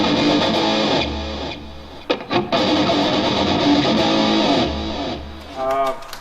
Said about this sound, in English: Here's a little delay action for it.